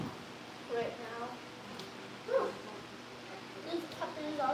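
Young Cavalier King Charles Spaniel puppies give short yips, whimpers and small barks in scattered bursts indoors, fairly faint and spread apart over low room noise.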